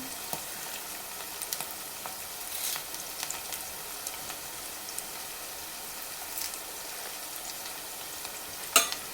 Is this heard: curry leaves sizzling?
yes